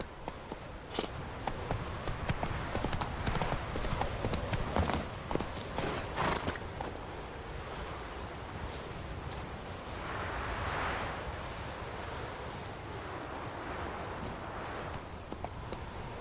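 Roach, a horse in The Witcher 3, galloping with steady rhythmic hoof clip-clop throughout, fairly close and continuous, with a brief swell of wind-like noise midway.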